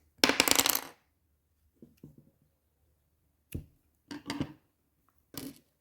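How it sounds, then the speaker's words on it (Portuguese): Scissors trimming excess yarn from a crocheted amigurumi doll, a few short crisp snips heard close up in a quiet room, with brief rustles of handling between cuts. "Vou perder ele aqui e cortar o excesso do fio."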